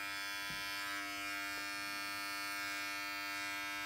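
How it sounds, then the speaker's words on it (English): An adjustable electric hair clipper hums steadily and close by while tapering a high-fade Ivy League haircut, a constant buzz with a couple of faint taps. "I'm going to use my adjustable clipper, and we're just going to finish the taper around the outline of the haircut"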